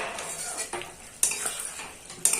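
A spoon scrapes and stirs through a vegetable curry of prawns, ridge gourd and potato in a lightly oiled pan, with several distinct clinks against the metal and a faint sizzle underneath, close and quiet.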